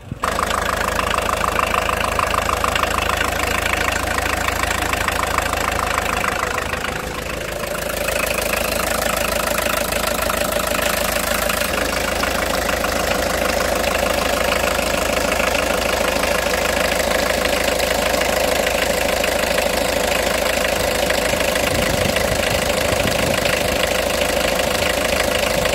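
A Volkswagen Combi T3 van engine idles steadily while warming up for the whole stretch, a constant mid-low rumble with a brief dip in level partway through, close by with no talk.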